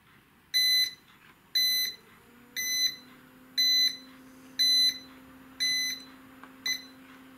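A ZFX W9002 12 V incubator thermostat sounds its low-temperature alarm as seven evenly spaced electronic beep bursts, each about half a second long and repeating once per second, with a faint low hum behind them.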